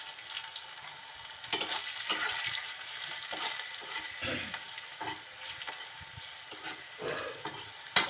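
Onions frying in a pan with salt and whole cumin for Malabar spinach, a steady soft sizzle with occasional stirring scrapes and clinks, close and fairly quiet.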